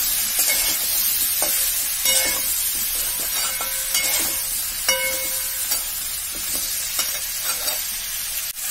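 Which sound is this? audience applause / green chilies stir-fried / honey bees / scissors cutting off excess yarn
green chilies stir-fried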